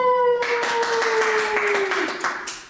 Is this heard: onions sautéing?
no